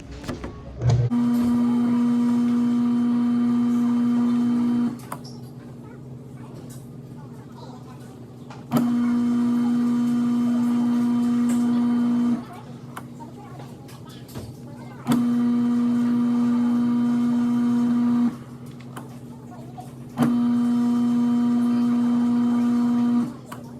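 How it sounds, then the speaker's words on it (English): A bench motor spins while a brass mouthpiece is buffed with silver polish, giving a loud, steady humming whine that runs in four separate bursts of about four seconds each, with quieter gaps between them. "making sure I've thoroughly polished the mouthpiece while the bench motor is spinning"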